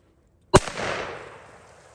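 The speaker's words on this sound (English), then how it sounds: "this is KJ's first pull on a shotgun ever." A single loud shotgun blast fired close by during someone's first shot ever, a sharp report followed by a long, fading rumble with no talk over it.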